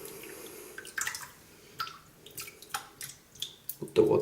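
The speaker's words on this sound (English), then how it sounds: "Just dip it in the water," A shaving brush is dipped into water, and a series of soft, close drips and small splashes follows at an uneven pace, quiet throughout and getting slightly louder at the end.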